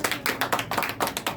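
A congregation at a year-end thanksgiving church service claps in a steady rhythm, roughly five or six beats per second, loud and close, with no talk over it.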